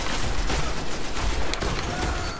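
Gunfire in the video game Destiny during a Crucible PvP match, a dense continuous barrage of shots and game sounds, loud and unbroken, with no clear talk.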